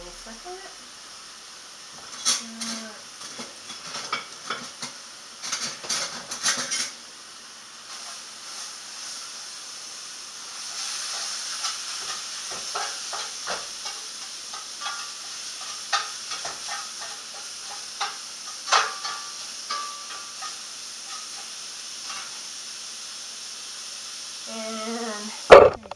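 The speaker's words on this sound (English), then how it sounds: "This is sauteing hamburger." Ground hamburger sautéing in a pan while being stirred, with a faint steady sizzle, scattered spoon scrapes and clatters, and a person talking intermittently over the cooking.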